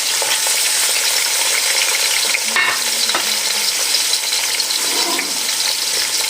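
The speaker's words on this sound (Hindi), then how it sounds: "उसी ऑयल में जो है मैं ये चिकन ऐड कर दूँगी" Loud, steady sizzling of chicken frying in hot oil, with occasional stirring scrapes and bubbling, no talking.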